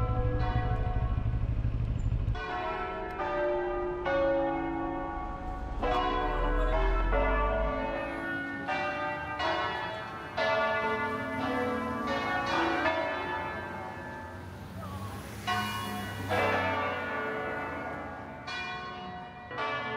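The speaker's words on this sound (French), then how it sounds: "il y a des cloches qui sonnent là" Several church bells peal in overlapping, irregular strokes, resonant and ringing out continuously, with a faint motorcycle engine rumble at the start, heard on a motorcycle road trip.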